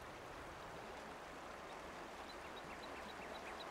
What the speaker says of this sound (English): The Wabash River is the longest undammed river in the eastern United States.